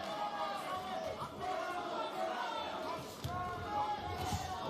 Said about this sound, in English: you hear "Let's go Bentley" in the crowd